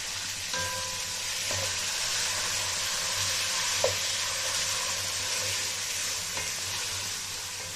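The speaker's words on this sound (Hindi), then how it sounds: "ये देखिए, यहाँ पे चने की दाल थोड़ी फ्राई हो गई है।" Chana dal frying in hot oil gives a steady, close sizzle with a few soft stirring knocks, continuous and unbroken with no voices.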